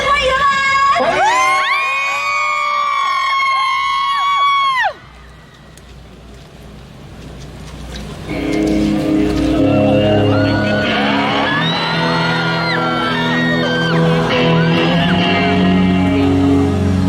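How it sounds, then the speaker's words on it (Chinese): A large outdoor crowd at the Taipei City Hall New Year's Eve concert whoops and shouts loudly over sustained stage music and singing, the cheering rising again after a brief lull in a dense, continuous roar. "让我们掌声欢迎他们！"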